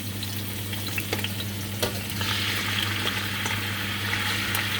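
Shrimp sizzle steadily in hot oil in a home kitchen, a continuous crackling hiss with occasional pops and spatters, close and fairly loud.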